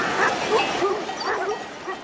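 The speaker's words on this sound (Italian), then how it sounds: "I cani da protezione abbaiano e corrono per interporsi tra il gregge e l'eventuale pericolo." Livestock guardian dogs barking and yipping with some whimpers in an Alpine pasture as a farmer passes, several close overlapping barks in quick irregular bursts throughout.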